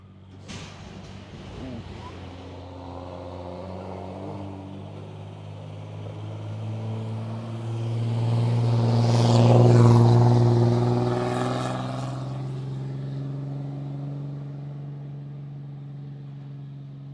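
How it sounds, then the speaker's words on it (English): A pickup truck hauling a trailer loaded with a tractor or dozer approaches, its engine drone swelling to a loud peak as it passes close by, then fading. "Got a pickup truck on its way up here. Looks like it's pulling a trailer."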